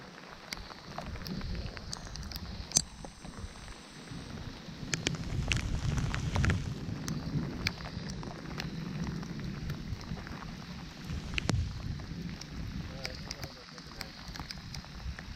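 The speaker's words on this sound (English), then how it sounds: "It's raining!" Steady rain patters on a surface with gusts of wind buffeting the microphone, scattered drops tapping throughout.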